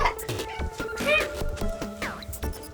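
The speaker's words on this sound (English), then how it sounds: "My cat." A pet cat in a checkered bathroom meows several times, short nasal cries and a drawn-out plaintive yowl, close by, with a person talking over and between the calls.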